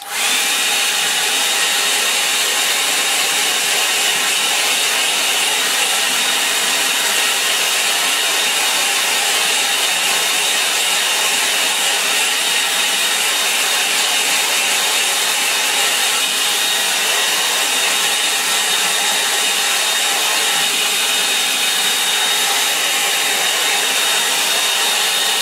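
Hair dryer drying watercolour paint on a line-and-wash birch painting, a loud, steady, unbroken airy whir held close to the microphone the whole time.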